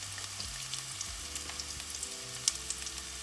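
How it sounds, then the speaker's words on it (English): Curry chicken feet saute in a hot pan with curry powder, giving a steady close sizzle and frying hiss with a few soft stirring clicks. "And then we're gonna saute that a little."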